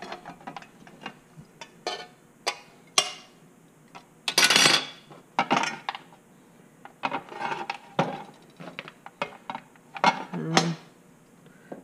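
Glass mosaic tile being cut and snapped with hand tools, giving a run of sharp clicks, scrapes and crunches in irregular bursts, with a louder crackling break near the middle, close and clear.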